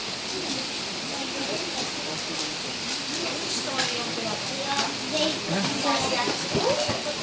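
Steady broadband rain hiss plays as a sound effect throughout a church retreat skit, fairly loud and continuous, while a voice narrates over it.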